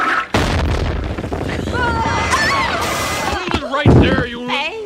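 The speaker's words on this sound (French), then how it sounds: "Ce n'était qu'un pétard" A firecracker goes off in a loud sharp boom near the start of a Simpsons cartoon scene, followed by busy chaotic noise with shouting voices and music-like tones throughout.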